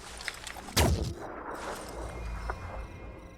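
A single heavy gunshot in the tactical video game Phoenix Point, a sharp booming crack followed by a lingering rumble that fades under low background noise.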